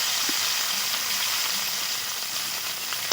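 Chopped onions hit hot oil in a pan for mustard-spiced fish cooking, giving a steady, close, even sizzle and hiss throughout with no talking.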